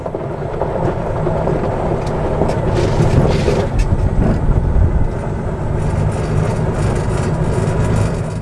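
Greenworks CU800 electric UTV driving over rough ground, a steady loud rumbling roar of motor, tires and rattling chassis that swells midway, close up with no talk.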